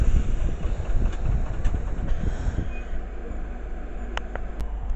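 Chiltern Railways Clubman diesel train leaving a London suburban station, a low rumbling engine and wheel noise with wind buffeting the microphone, followed near the end by a few sharp metallic squeals.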